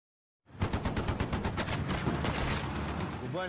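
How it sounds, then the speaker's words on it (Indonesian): Sudden rapid automatic gunfire erupts from a forest after a brief silence, a dense rattling burst of shots continuing steadily, sounding somewhat distant. "terdengar beberapa tembakan dari dalam hutan"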